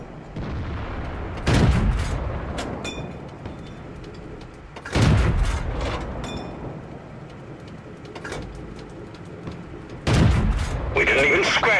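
A tank cannon in World of Tanks, fired from a Cromwell, booms three times at spaced intervals, each blast heavy and echoing over a steady rumbling battle ambience, with a voice speaking in between.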